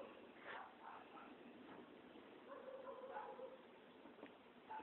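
Several dogs bark and yip in the distance, a band-limited, muffled chorus of overlapping barks with a few whimpering notes across a few seconds.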